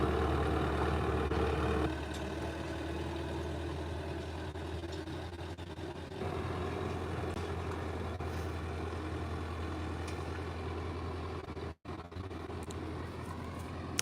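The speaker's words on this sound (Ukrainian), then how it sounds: "Трактор е, їздить зі швидкістю 12 км на годину." A farm tractor with an Italian pump drives along at about 12 km/h, its engine rumbling steadily and fairly close throughout, with a brief dropout near the end.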